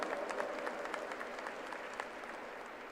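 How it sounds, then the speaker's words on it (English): Steady applause from a convocation crowd at a university ceremony, moderately faint and distant-sounding, a continuous wash of many hands clapping throughout. "here the applause should be louder"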